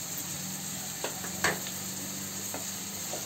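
Bay leaves, cloves, cinnamon and other whole spices frying in hot oil for a green chicken dish, giving a steady soft sizzle with a few faint stirring clicks and one sharper scrape midway, no talking.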